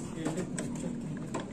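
A Honda Vario's front wheel brake scrapes faintly, a soft repeating rasp as the wheel turns, with some mechanical clicking and low background hum.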